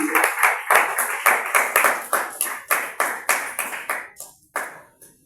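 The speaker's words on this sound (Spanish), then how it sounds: "Pero fuerte aplauso a Jesucristo." A church congregation in Ecuador claps in praise during a sermon, a close run of rhythmic, fairly even claps that gradually slows and thins toward a few final scattered hand claps.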